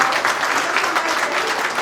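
A congregation at a weekly church service in Mahabula, Kuwait, applauds to welcome a visiting elder, a dense, continuous burst of clapping from a roomful of people.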